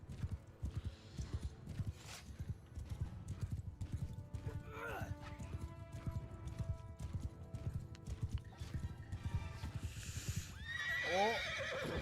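Cavalry horses in a video game gallop with dense, continuous hoof clatter, and several neighs and whinnies rise over the herd, the loudest near the end; someone talks over the action.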